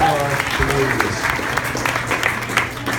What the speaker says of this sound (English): let's give our office holders in the room a round of applause and appreciation for their hard work